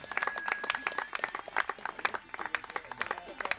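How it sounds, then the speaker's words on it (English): Scattered hand clapping from a small wedding ceremony crowd applauding the bride and groom, uneven and lively, with a faint whistle-like tone and some voices mixed in. "Can we give the bride and groom a round of applause?"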